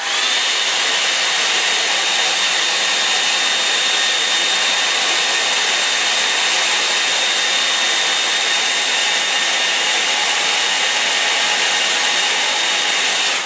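Hair dryer blowing on wet paint, a loud, steady, close whooshing roar with a faint whine that holds constant from start to finish.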